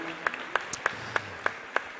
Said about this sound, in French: Je vais vous demander de les applaudir quand ils arrivent